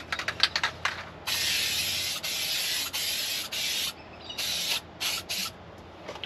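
One-pack epoxy etch primer hisses from a spray can onto a 1985 Toyota Landcruiser, in several bursts of varying length close by, some long and some short, with light handling clicks between them.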